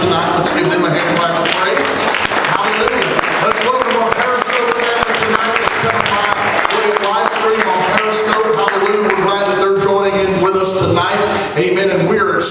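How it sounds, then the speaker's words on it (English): A church congregation at a Sunday night service claps to welcome visitors, with the clapping blended into loud music and voices that run throughout. "Let's give them a hand clap."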